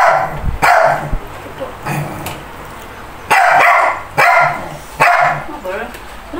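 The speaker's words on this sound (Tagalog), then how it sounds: "Nahingit yung aso namin." A family's pet dog barks repeatedly at home during a grilled pork belly meal, loud sharp barks in irregular bursts close by, with people talking and calling to it in between.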